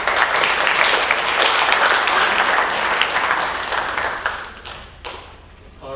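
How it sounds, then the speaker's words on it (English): An audience at a high school athletic awards night claps in a loud, dense round of applause that holds steady, then thins and fades near the end. "Let's give him another nice round of applause."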